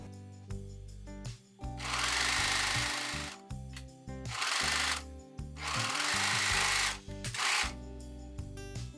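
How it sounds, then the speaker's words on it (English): A home sewing machine stitches stretch velvet with a small zigzag stitch, running in three loud sustained bursts of rapid whirring needle action separated by short pauses, close and with no talking. "You can sew on a regular sewing machine using small zigzag stitch."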